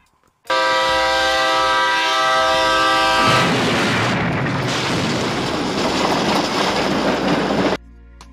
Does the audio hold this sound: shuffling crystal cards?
no